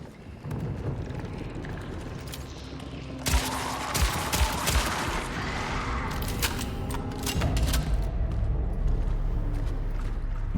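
Rapid gunfire in the survival horror game Cronos: The New Dawn, bursts of shots crackling over a dense, noisy game soundscape, growing busier and louder in the second half.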